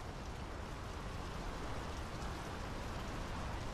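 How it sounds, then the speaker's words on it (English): Steady rain falls in Draugen, a dense, even hiss of drops with no pauses, fairly loud and unbroken throughout. "The rain's picking up."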